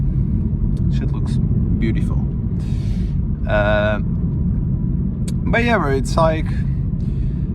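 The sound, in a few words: BMW diesel car engine sounding wrong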